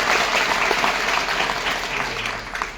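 Loud applause from an audience at a Hindu religious gathering, a large yagna ceremony in India, steady dense clapping filling the whole stretch without a break.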